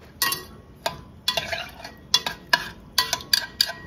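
Uncooked rice grains stirred and tossed around in a metal pot while cooking rice, a run of close, crisp scraping rattles and clicks in uneven bursts, with no talking.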